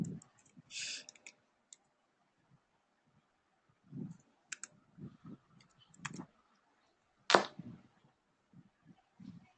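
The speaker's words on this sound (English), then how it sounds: "I'm just typing it here," Sparse computer keyboard typing in a quiet room, scattered soft key clicks and taps in irregular bursts with long gaps between them, one sharper knock standing out near the end.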